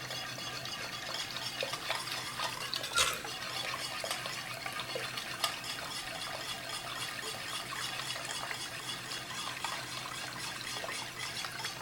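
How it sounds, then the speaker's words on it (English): Vodka poured into a homemade Kahlua mixture and stirred steadily, giving a faint, continuous liquid swish and trickle with small clinks, close and quiet with no talking. "as you're pouring in your vodka, just keep stirring it around"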